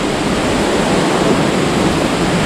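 The Balangbulang waterfall in Gowa roars close by as a steady, loud, dense wash of falling water, unbroken and unchanging throughout, with no voices.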